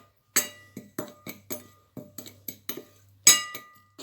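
A spoon clinks against a bowl while red chili powder and salt are mixed into a masala for chana chaat: sharp, separate taps in an irregular rhythm, close and fairly quiet, with no talking.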